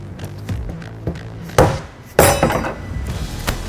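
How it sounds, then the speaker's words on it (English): A rubber mallet and pry bar knock a locking ring off a 70-gallon fuel tank for a 2011-16 Ford Powerstroke 6.7L crew cab, giving a few sharp, close metallic strikes amid lighter taps. "I'm going to go ahead and use a pry bar and a rubber mallet, and we're just going to hammer this locking ring off."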